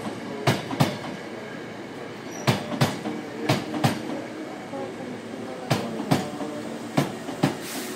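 A Hankyu commuter express train rolls into a station past with paired, rhythmic clickety-clack beats of wheels over rail joints, repeating steadily above a low rumble.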